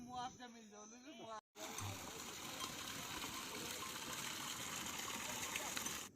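Irrigation water gushing steadily into a large rice paddy field in Uttarakhand, a continuous rushing flow that follows a moment of talk and a brief cut.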